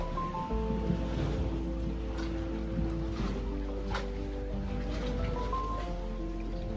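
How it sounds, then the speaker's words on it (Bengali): A speed boat runs on clear open water at a distance, a steady engine drone mixed with water and wind noise, faint voices nearby. "ওই যে স্পিড বোট রান করছে"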